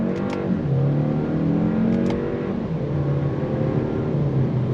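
A 2026 Kia K4 GT-Line turbo hatchback accelerates under throttle from a slow roll, its engine droning and rising in pitch through paddle-shifted gears, heard steadily from inside the cabin.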